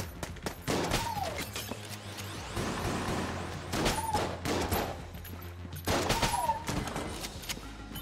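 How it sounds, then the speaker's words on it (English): A shotgun fires repeatedly in the video game Enter the Gungeon, sharp blasts coming in bursts every few seconds amid clattering game effects, with no talking. "I'm just gonna carry on using the gun now, the shotgun now, because in level 2 it gets a lot harder."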